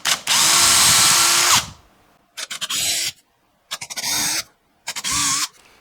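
A power drill with a 2.5 mm bit bores into the wood of a century-old door frame being made into a guitar body, first in one long whine, then in three shorter bursts separated by pauses.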